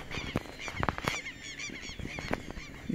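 Ducks calling at a lagoon, a run of loud, close, nasal honking quacks repeating in quick irregular bursts with no talk over them.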